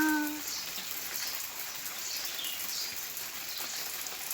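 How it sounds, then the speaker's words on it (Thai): An artificial water fountain splashes in a steady, even hiss that sounds like falling rain, continuing throughout after a brief voice at the very start. "ม่ใช่ฝนนะคะ ไม่ใช่ฝนเจ้า อู้เล่นมาได้เจ้า น้ำพุประดิษฐ์"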